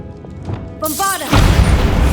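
A Bombarda spell explosion in Hogwarts Legacy, cast inside a decayed stone catacomb: a brief magical whooshing tone bursts into a loud, broad booming blast that rumbles on to the end.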